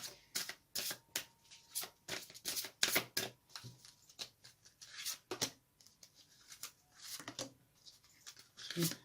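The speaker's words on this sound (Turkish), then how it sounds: "romantik melek kartlarından 3 tane kart alacağım" Romantic angel cards being shuffled and drawn, close-up flicks and riffles coming in quick rhythmic bursts with short gaps, while someone talks quietly now and then.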